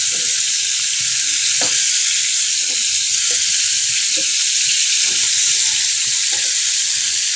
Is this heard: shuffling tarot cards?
no